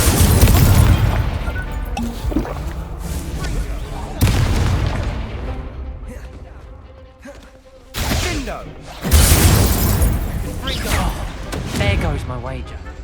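Repeated booming bursts of the Incendio fire spell in the video game Hogwarts Legacy, several loud fiery explosions a few seconds apart with crackling tails, heavy and close.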